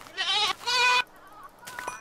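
A goat in the video game Minecraft bleats twice, each cry loud, wavering and about half a second long, followed by fainter game sounds.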